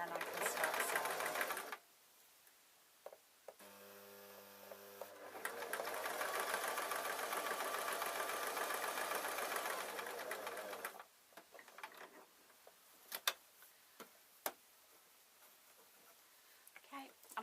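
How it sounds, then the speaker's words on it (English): A sewing machine stitches a slipper bootie in close, rapid mechanical bursts, running for a few seconds, pausing, then running longer, with quiet handling clicks after the stitching stops. "and then I can start sewing"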